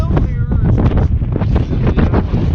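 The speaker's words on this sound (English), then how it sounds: "It's windy as hell." Heavy wind buffets the microphone with a loud, constant roar and rumble, gusting throughout.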